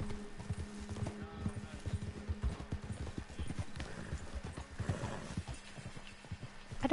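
Horse hooves clip-clop in a steady, rhythmic trot inside the Red Dead Redemption 2 video game, fairly close and continuous, with some voices talking over them.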